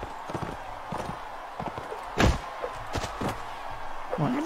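Horses gallop in the fantasy battle game Warsword Conquest, producing a rapid patter of hoofbeats broken by heavy thuds and battle clatter, with someone talking over it.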